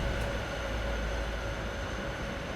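A heavy freight train rolls into Laramie on the Sherman Hill line in Train Sim World 2, a steady deep rumble of wheels and cars running continuously with no voices.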